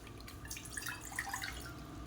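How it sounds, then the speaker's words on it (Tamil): Water pours and trickles into a saucepan, a faint, close splashing with small drip-like plinks scattered through the short stretch. "இதில் 2 டம்ளருக்கு தண்ணி ஊற்றிக்கலாம்."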